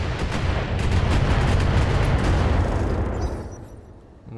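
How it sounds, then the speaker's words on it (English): Missile salvo from a mech in the tactical game BattleTech, a dense rumbling barrage of launches and blasts that holds strong for about three seconds before trailing away. "I got missiles, baby. Firing."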